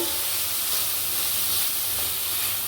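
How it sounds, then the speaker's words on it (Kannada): Paneer and capsicum frying in a pan over a low flame, giving a steady, soft broadband sizzle and hiss that holds evenly from start to end with no voices. "ಹಾಗೆ ಲೋ ಫ್ಲೇಮಲ್ಲಿ ಇಟ್ಕೊಂಡು ಸ್ವಲ್ಪ ಫ್ರೈ ಮಾಡಿಕೊಂಡ್ರೆ ಸಾಕು"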